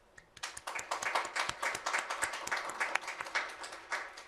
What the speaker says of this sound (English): hope that you will join me in a round of applause for her efforts.